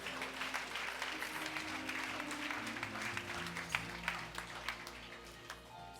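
An audience claps for a church worship team in an auditorium, steady applause at a distance and fairly faint, with a low hum and scattered sharper claps toward the end.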